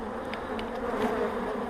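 Honey bees drone loudly around an opened spring hive, a thick steady buzz near at hand with occasional brief clicks from handled frames.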